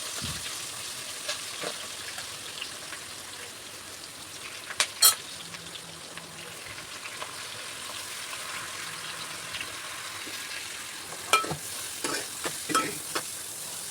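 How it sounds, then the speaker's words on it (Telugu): Chopped onion and green chilli pieces fry in oil for an egg curry, giving a soft, continuous sizzle with occasional light clinks of a stirring utensil, heard close up with no talking. "ఆనియన్ అండ్ పచ్చిమిరపకాయ ముక్కలు ఇవైతే వేయించుకొని వేయించేద్దాం"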